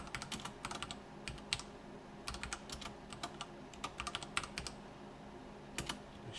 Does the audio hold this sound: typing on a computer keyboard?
yes